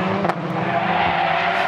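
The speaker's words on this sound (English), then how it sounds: "Oh, big lock-up in front of the race leader." A race car's tyres lock up under heavy braking at the 8 Hours of Bahrain endurance race, a loud, sustained scrubbing skid over engine roar lasting under two seconds.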